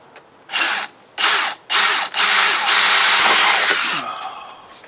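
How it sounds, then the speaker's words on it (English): A power drill bores holes for mounting KC Cyclone amber dust lights on a vehicle, three short loud whirring bursts followed by a longer sustained run that winds down, close and without talk. "I just drilled the holes"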